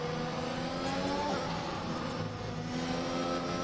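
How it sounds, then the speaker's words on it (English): F1 2021 race cars overtaking at the Belgium round in the video game, a continuous engine drone with shifting tones and revs, moderately loud and steady. "And we have Jelly overtaking Young Money here, up into P8."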